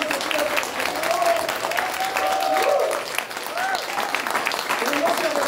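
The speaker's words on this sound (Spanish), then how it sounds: "¡Un aplauso, fuerte, por favor!" A church congregation applauds during a Spanish-language sermon, sustained loud clapping with cheering voices and whoops rising above it.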